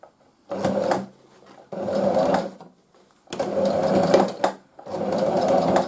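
A sewing machine stitching the seam of a fabric face mask runs in four bursts of fast, even whirring and clatter, close and loud, with short silent pauses between runs.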